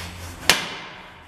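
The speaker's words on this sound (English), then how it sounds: "A couple of good taps with a sensible hammer." A single sharp metallic tap of a hammer on a Nissan Qashqai drive shaft rings out once and fades quickly in a quiet space.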